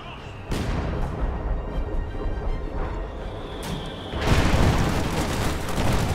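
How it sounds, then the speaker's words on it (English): Artillery fire in the video game Company of Heroes 2 during a heavy tank battle, a dense rumble of booms and blasts with a louder burst near the end. "A lot of artillery down here."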